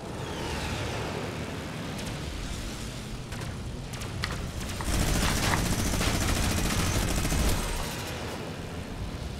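Sustained rapid gunfire from a minigun in Fortnite Season 8 fills the whole stretch, a dense continuous rattle that swells louder and closer midway before easing slightly, with no talk over it.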